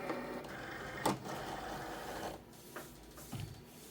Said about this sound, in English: you would load your machine with your mat. Press the load button.